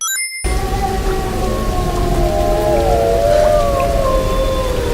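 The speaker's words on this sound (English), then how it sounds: "Ooh, wolf sounds are scary." Wolves howl in the Tomb Raider (2013) video game: several long, wavering howls overlap and rise and fall together over a steady hiss like heavy rain. The sound begins abruptly after a brief silence and stays loud throughout.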